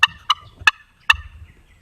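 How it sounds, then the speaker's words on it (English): Four sharp, high-pitched turkey clucks from a slate call, evenly spaced and close, with quiet pauses between. "let's try this slate call here"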